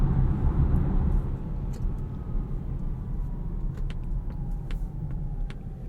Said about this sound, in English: You get a little bit of tire noise,